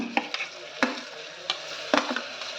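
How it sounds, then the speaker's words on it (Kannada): Tomato pieces, one medium tomato chopped small with the juice squeezed out, fry in oil in a pan for tomato rice, with a steady soft sizzle broken by a few sharp stirring clinks and scrapes, close and without talk. "ಈಗ ನೋಡಿರಿ, ಟೊಮೆಟೊ ಪೀಸ್ ಚಂದ ಫ್ರೈ ಆಗ್ಲಾಕ ಇರಬೇಕು ರೀ"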